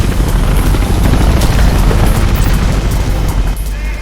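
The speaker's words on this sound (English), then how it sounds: "Chopper spotted you." Police helicopter in the video game Mirror's Edge, a loud, dense rotor roar close overhead that holds steady throughout, with no one talking.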